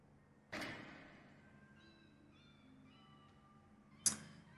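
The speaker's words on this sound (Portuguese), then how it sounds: "Para quem jogou Gone Home, vocês vão lembrar desse gatinho." A cat in the video game Tacoma gives a short meow between two sharp game impacts, with faint tonal interface sounds in a quiet, close indoor setting.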